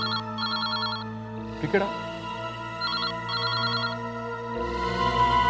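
A telephone rings in repeated paired electronic trills inside a home, clear and fairly close, with a brief spoken phrase and a background music bed beneath it.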